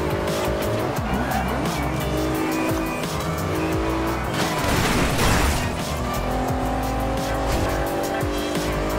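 Race car engine from the Forza Horizon 2 racing game, loud and continuous with rising and falling revs and repeated tire squeal as the car skids through turns.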